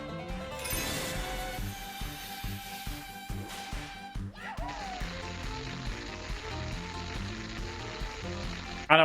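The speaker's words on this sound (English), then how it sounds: "I think it's supposed to be water." Watery sound effect from the Final Fantasy VII video game: a steady broadband hiss, like rushing or sizzling water, sets in midway and runs continuously over tonal game music, with a brief louder burst at the very end.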